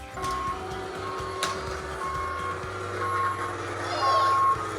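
A green and white toy Hess dump truck gives repeated electronic reversing beeps at a steady rhythm while people talk nearby.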